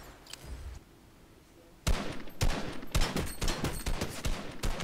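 Fortnite gunfire bursts out in rapid, loud shots after a brief quiet gap, several sharp reports fired in quick succession at close range.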